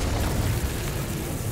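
A fiery Incendio spell cast in Hogwarts Legacy gives a continuous low, rumbling burst that stays loud through its short length, with no talk over it.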